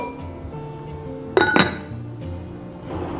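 A lid is set on a stew pot of pork heart soup for slow steaming, giving a sharp close clink and a short rattle of ceramic or glass, then quiet.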